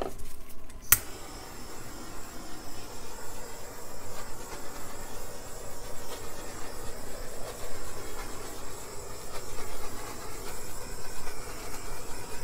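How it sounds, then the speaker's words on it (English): A torch flame roars over an acrylic paint pour on a wood round, beginning with a sharp click of ignition followed by a steady close hissing rush that continues throughout. "Let's torch it."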